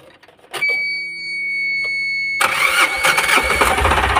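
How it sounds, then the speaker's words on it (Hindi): Tata Mega pickup engine cranking briefly, then catching and settling into a loud, steady idle with the bonnet removed; a few faint clicks precede the start. "और गाड़ी को करते हैं स्टार्ट।"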